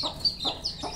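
A hen with her black chicks clucking close by in a short burst of three quick, soft calls.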